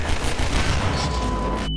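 Video game gunfire in a rapid, dense burst of shots that runs close and loud for nearly two seconds, then cuts off abruptly.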